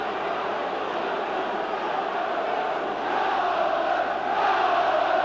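Oldham Athletic fans in the stadium during a 1990 League Cup semi-final against West Ham United, a steady loud roar of chanting and cheering that swells toward the end.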